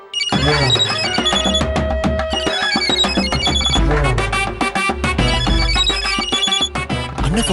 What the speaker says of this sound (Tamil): அண்ணன் ஃபோன் பண்றாரு. எடுத்து பேசுங்க.